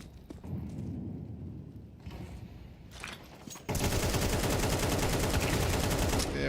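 A Counter-Strike player empties a full magazine: after a few scattered shots, a long, loud, rapid burst of automatic gunfire runs without a break to the end, with no talk over it.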